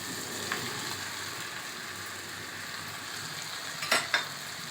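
Mushrooms frying in a pan for a curry with a steady sizzle, while a utensil stirs and scrapes now and then, with a couple of sharper clinks near the end.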